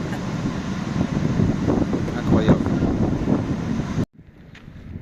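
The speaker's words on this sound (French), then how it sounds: "Ah, il y a du vent." Strong wind blasts across the microphone with a loud, rumbling roar near a camper van at Cabo de Gata on the Spanish coast, lasting about four seconds before cutting out; a person speaks briefly over it.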